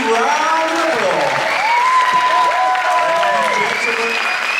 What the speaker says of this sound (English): Audience members, can we have a round of applause?